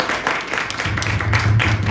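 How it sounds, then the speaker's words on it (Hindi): A live audience claps loudly together at a Christian testimony gathering, a dense, steady wash of applause that runs for the whole two seconds with no talk over it. "एक जोरदार ताली बजाओ"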